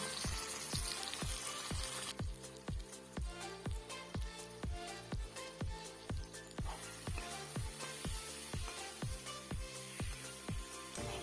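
Potatoes frying in a pot of chicken curry with curry leaves, a steady run of evenly spaced sizzling pops and bursts, close and fairly quiet, with no talk.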